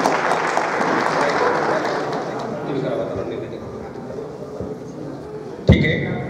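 An audience at a felicitation programme applauds in dense clapping that starts strong and slowly thins, with a single sharp thud near the end.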